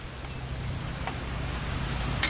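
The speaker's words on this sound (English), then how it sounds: "It's gonna rain the whole weekend, isn't it?" Rain falls steadily in the video game What Remains of Edith Finch, a soft, even hiss of drops on surfaces, close and fairly quiet, with no voices.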